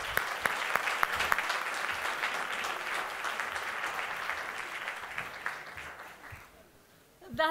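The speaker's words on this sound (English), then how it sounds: "two thumbs up and a round of applause for everybody here tonight" Sustained audience applause fills a signing ceremony between the City of Toronto and Film City, dense and steady for most of the stretch before fading out near the end.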